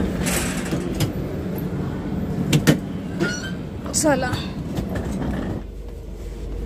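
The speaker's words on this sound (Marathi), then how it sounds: "आमची ट्रेन आलेली आहे" A train pulling into Madurai railway station, heard as a steady rumble of rolling wagons with clicks, a brief rising horn-like tone and platform bustle, while people talk nearby.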